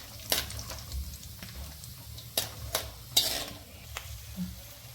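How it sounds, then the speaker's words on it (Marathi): Cashews and almonds fry in ghee in a pan: a soft, low sizzle with several sharp spatula taps and scrapes against the pan. "तर आता इकडे आपले काजू आणि बदाम फ्राय झालेले आहेत, बघू शकता तुम्ही."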